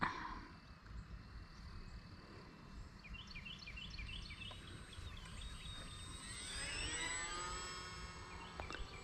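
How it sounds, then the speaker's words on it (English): A small UMX Turbo Timber Evolution RC plane makes a low pass outdoors on a windless day, its faint thin electric whine rising and sweeping as it goes by, with birds chirping in the background. "We'll do one more low flyby and then we'll land it."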